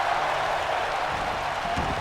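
Wrestling event crowd clapping and cheering, a steady broadband wash of applause filling the arena throughout with no clear gaps.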